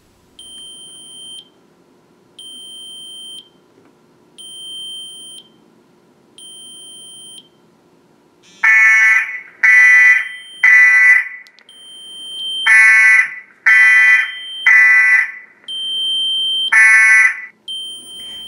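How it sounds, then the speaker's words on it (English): A Roost smart water sensor sitting in a plate of water sounds its alarm: first a string of faint single high beeps at regular intervals, then loud clustered triple bursts of piercing electronic beeping, close and with no voices. "here is what it looks like actually sitting in a plate of water to get it to go off"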